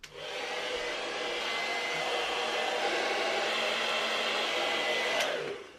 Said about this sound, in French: on va aller chercher les sèche-cheveux pour accélérer un peu la sèche